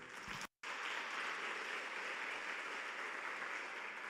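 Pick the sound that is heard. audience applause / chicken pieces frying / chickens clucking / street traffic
audience applause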